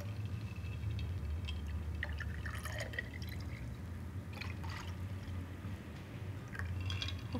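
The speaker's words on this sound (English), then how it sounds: "And pour a coffee cocktail." A coffee cocktail is poured into a glass with a coffee-dipped rim, giving a steady trickling, dripping liquid sound over a low background hum, with no voices.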